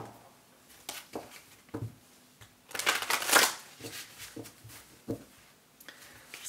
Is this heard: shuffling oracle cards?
yes